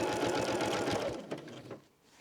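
A sewing machine with a walking foot runs at a steady, fast stitching rhythm while quilting a heavy cotton quilt, then slows and stops after about a second, close and alone.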